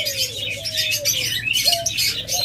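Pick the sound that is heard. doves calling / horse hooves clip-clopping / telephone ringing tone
doves calling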